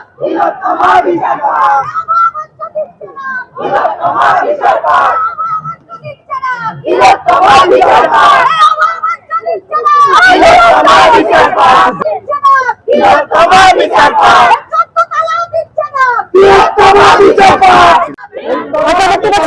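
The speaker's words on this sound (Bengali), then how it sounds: "মশাল হাতে এগিয়ে চলেছে অভয়ার বিচারের দাবিতে তার 33তম জন্মদিনে এই প্রতিবাদ মিছিল" A torch-lit protest march in Sodepur demanding justice for Abhaya, with a dense crowd chanting and shouting in loud, rhythmic bursts that rise and fall throughout, close and continuous.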